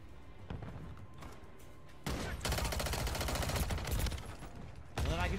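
Gunfire in a video game, rapid automatic bursts in dense rattling volleys that start after a quieter stretch, pause briefly, then resume loud and close.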